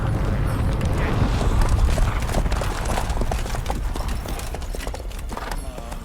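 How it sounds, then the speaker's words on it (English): Heavy hoofbeats of several horses pound steadily and loudly, a galloping clatter with a faint whinny, no clear speech. "Looks like we got company. Nilfgaardian battle mounts."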